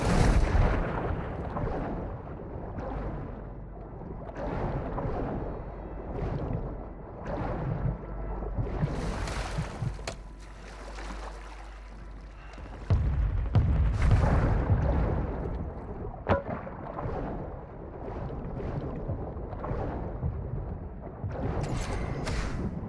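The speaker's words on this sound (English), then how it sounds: "Hostiles called in an airstrike." Enemy airstrike explosions in a video game: repeated heavy booms and rumbling blasts roll on throughout, loud and close, with a deep sustained roar in the middle stretch.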